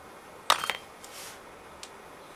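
Metal metric Allen hex keys clink and rattle together as a set is rummaged through, a short cluster of bright jingles followed by a few fainter taps in a quiet room.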